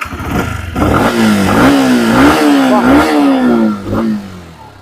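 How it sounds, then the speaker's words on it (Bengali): A used motorcycle at a bike showroom near Kolkata starts up and revs close by, its engine note climbing and falling in several loud, uneven throttle blips before settling. "গাড়ি একটু স্টার্ট দাদা হ্যাঁ অবশ্যই আওয়াজটা শোনাও"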